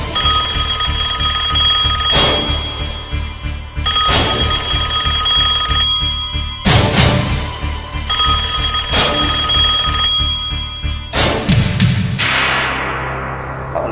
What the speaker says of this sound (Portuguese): É muito estranho esse telefone tocar esta hora da noite